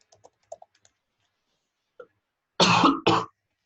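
Two loud, close coughs in quick succession follow a stretch of faint, scattered clicks like light keyboard typing in a quiet room.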